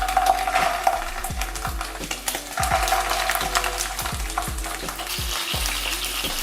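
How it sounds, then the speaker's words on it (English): Bratwurst sizzling in hot oil in a pan, a dense constant crackle with repeated clinks and scrapes of tongs against the pan, close and loud throughout. "our brats are ready to go in, we're gonna put them in, but we're gonna be very careful because this oil is gonna spark"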